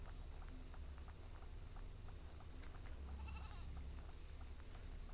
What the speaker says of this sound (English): I hear a goat.